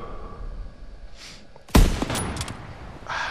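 Gunfire in a Call of Duty WWII Battle of the Bulge scene: a sharp, loud shot bursts out midway, followed by echoing crackle and scattered distant reports over a low rumbling battlefield backdrop.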